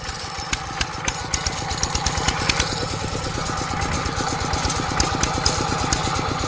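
A small engine on a fertilizer spreader blows dried cow manure, running with a steady, rapid, rattling putter close by, with faint scattered ticks above it.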